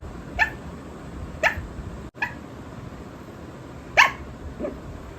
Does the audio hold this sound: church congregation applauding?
no